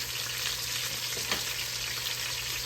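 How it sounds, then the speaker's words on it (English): Vegetables sear in a pot for a smothered beef dish, making a loud, continuous frying hiss with little variation. A faint stir or scrape sounds briefly midway. "Get a good sear on the veg."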